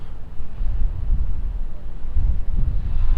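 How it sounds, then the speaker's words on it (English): Strong wind buffets the microphone high above the Anfield stadium expansion works in Liverpool, a continuous low, gusty rumble that swells and eases throughout, with no other clear sounds. "It's very windy up there today."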